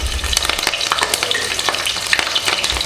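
Curry leaves, slit green chilies and cloves sizzle steadily in hot oil in a pan for Chettinad chicken gravy, with close, continuous crackling and the scrape of stirring throughout.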